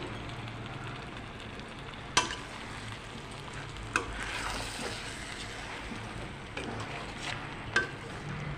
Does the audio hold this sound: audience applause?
no